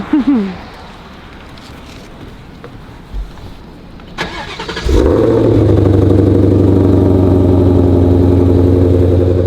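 A 2020 Ford Mustang Shelby GT500 V8 engine cranks briefly, then bursts to life with a loud rev and settles into a deep, steady rumbling idle up close.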